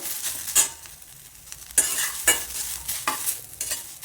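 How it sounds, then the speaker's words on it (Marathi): Grated coconut sizzling in a hot kadhai with fried onions for chole, stirred with a spatula, producing a close, gentle sizzle with several sharp scraping strokes and metal clinks at irregular intervals. "याच्यानंतर मी या ठिकाणी आपलं जे खोबरं आहे ते पण टाकून घेते."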